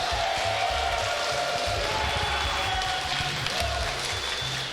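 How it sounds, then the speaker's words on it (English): Sustained applause from about 75 attendees at a Super Smash Bros. Ultimate tournament fills the room, dense and steady, with a few cheers mixed in and a low rhythmic thump underneath. "Give yourselves a round of applause."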